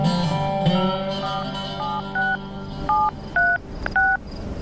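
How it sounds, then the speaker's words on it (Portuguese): A telephone is dialed with a series of short, distinct two-tone keypad beeps in an uneven rhythm, heard close and clear over a low steady hum. "O que está fazendo com esse telefone? Para quem estava ligando?"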